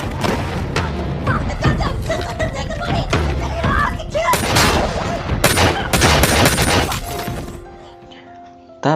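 Loud gunfire in a mafia action film, with a burst of shots, booming impacts and shattering glass across several seconds before the sound drops away near the end.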